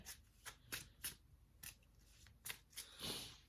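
A deck of tarot cards is shuffled by hand in quiet, close, crisp riffling bursts at an uneven rhythm, ending in a longer rustling sweep.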